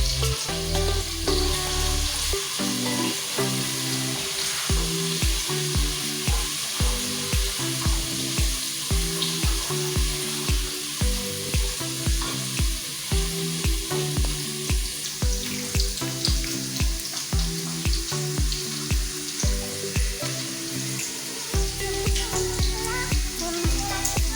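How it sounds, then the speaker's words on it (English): Grated ginger and garlic sizzle with onions in a pan, a steady close frying hiss with regular stirring under rhythmic background music. "Add our grated ginger and garlic to our onions."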